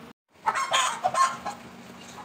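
Backyard chickens cluck as grain is scattered for them, a few near, uneven clucks and calls after a brief silence, with no talk.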